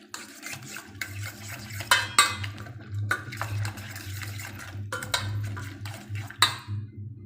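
Egg mixture with chopped onion, tomato and capsicum whisked in a bowl, a steady clattering of utensil against the bowl with sharper knocks, over a low background hum.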